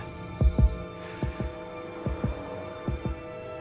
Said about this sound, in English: She's putting the phone by her heartbeat.